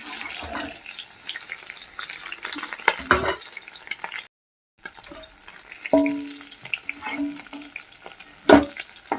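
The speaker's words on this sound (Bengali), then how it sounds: "মাছগুলো ভালো করে ভেজে নিয়ে আমি তুলে নেব" Close frying sizzle of katla fish in oil, with stirring and scraping in a pan, interrupted by a brief silence, then a few clanks and more sizzling.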